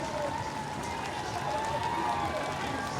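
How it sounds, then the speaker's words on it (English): A big crowd cheers and roars steadily as the winner finishes the Great Manchester Run road race, a dense, continuous wash of distant voices and applause, with a commentator talking over it. "Big crowd gathering to greet her home."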